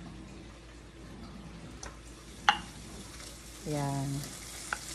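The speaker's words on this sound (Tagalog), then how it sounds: "ang ginagawa ko ay piniprito ko muna ng kaunti yung karne." Pork sizzles in a frying pan with garlic and onion, a steady close fry with a few sharper pops and a brief burst of stirring. A voice says one short word.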